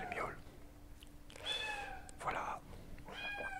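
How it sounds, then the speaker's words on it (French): A newly adopted female cat meows several times in a quiet indoor room, with short bursts of close, clear meows separated by brief pauses over a faint steady hum. "Et elle miaule."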